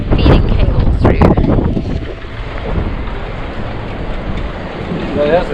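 Strong wind buffets the microphone aboard a sailboat at a mooring ball, gusty and rumbling up close with heavier bursts early and a steady roar afterward, and a voice talks through part of it.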